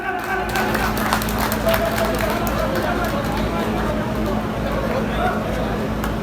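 A crowd at an outdoor BJP thanksgiving rally in Taranagar claps and cheers in a continuous dense wash, with a steady low rumble and babble of voices mixed underneath.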